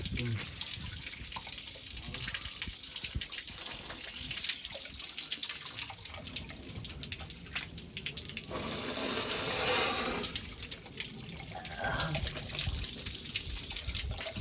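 Water runs steadily from a pipe fed by a black tank, a continuous close splashing gush that barely changes across the whole stretch.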